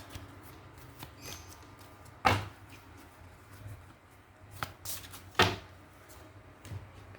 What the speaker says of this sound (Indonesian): Kita akan mengambil satu kartu.